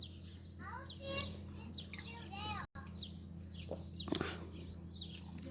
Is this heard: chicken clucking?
yes